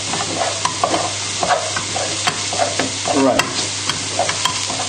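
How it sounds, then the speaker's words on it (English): Butter stirred into leeks in a pan for creamed leeks, with continuous soft sizzling under a low hum and repeated scraping stir strokes close by, and a brief word spoken. "Hopefully all the butter's stirred in now."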